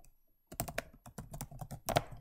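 Fingers typing on a computer keyboard in a quiet room, an uneven run of close, clicky keystrokes starting after a short silence, with a few firmer presses near the end.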